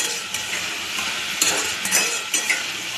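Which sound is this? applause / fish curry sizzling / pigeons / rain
fish curry sizzling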